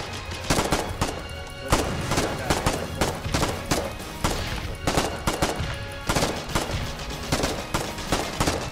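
Heavy gunfire in the war game Foxhole, with overlapping automatic bursts and single shots crackling loudly all the way through, plus a few thuds.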